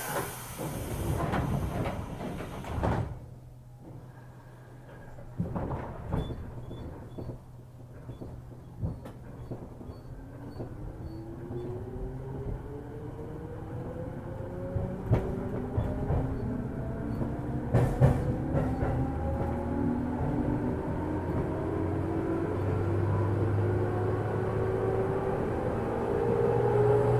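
Saikyo Line 205 series commuter train on the Shinjuku–Omiya run, with a hiss of door air and clunks as the doors close, then motor whine rising steadily in pitch as the train pulls away and accelerates.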